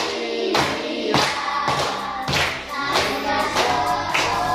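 Children in a classroom clapping their hands, several bursts of group applause-like claps roughly every half second to second, loud and close, a song-like voice faintly underneath.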